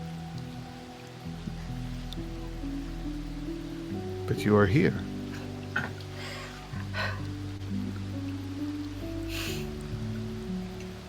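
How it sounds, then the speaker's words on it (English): Steady rain drumming on a house roof, with a faint dripping from a leak somewhere indoors, forming a soft ambient bed beneath a brief spoken line and musical tones. "The steady thrum of raindrops on the roof, and somewhere in the house, the slightest little dripping noise"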